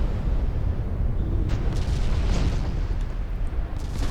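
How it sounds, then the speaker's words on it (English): Torpedo hits exploding against a battleship in Ultimate Admiral Dreadnoughts, heard as a continuous rumbling roar of low booms with a few sharper bursts layered on top, with no voices. "Yes. 3 torpedo hits."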